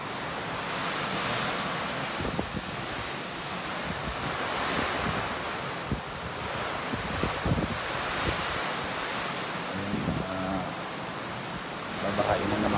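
Strong wind roars steadily and loudly into the microphone with surging gusts, and faint knocks and rattles sound underneath.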